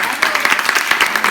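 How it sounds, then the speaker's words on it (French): Brief burst of dense audience applause at a general-knowledge quiz contest ceremony, loud and continuous with many hands clapping close together. "Vous pouvez l'applaudir."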